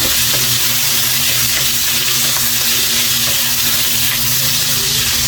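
Ginger frying in oil in a pan for Ilocano pinakbet, a loud, steady close sizzle and crackle that runs unbroken throughout with no talking.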